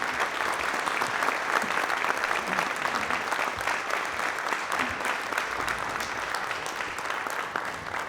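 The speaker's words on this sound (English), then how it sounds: "Please join me in giving the warmest welcome to, and a round of applause to the Right Honourable Baroness Sayeeda Warsi" An audience applauds steadily to welcome Baroness Sayeeda Warsi at a conversation event, a dense, even wash of many hands clapping that holds at constant loudness throughout, with no voices over it.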